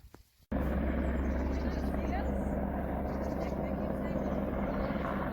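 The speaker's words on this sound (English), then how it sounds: "So this helicopter is looking for Rose" A helicopter at a 9,300 ft mountain spring on the Pacific Crest Trail, heard as a loud, steady engine and rotor drone that starts abruptly and holds unbroken, with no talk over it.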